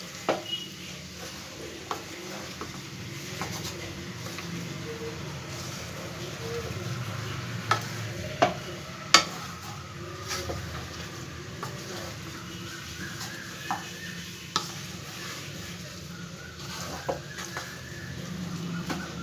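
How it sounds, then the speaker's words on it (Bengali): Banana flower being mixed with spices and potatoes in a pan, with a low sizzle under intermittent spatula scrapes and a few sharp taps against the pan, fairly quiet. "এবার মশলার সাথে খুব ভালো করে আমি মিশিয়ে নেব আগে"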